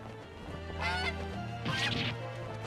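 Geese honking in The Great Ace Attorney video game, with two bursts of nasal honks over steady, droning game music.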